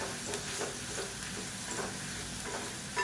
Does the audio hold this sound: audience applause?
no